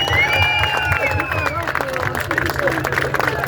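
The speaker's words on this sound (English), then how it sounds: "Let's give another round of applause for Chris Snyder." A crowd at a state house rally in Massachusetts claps and cheers in a short burst of applause, with a voice talking over the clapping nearby.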